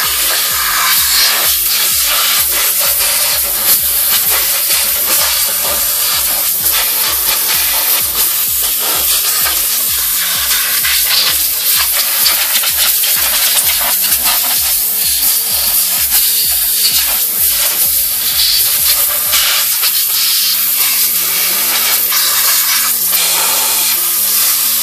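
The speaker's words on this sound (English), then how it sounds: "you actually want to spray off the manifold." A steady, loud hiss of spray washing off the intake manifold of a Ford Escape 3.0 V6, running without a break for about twenty-five seconds with small fluctuations and no voices.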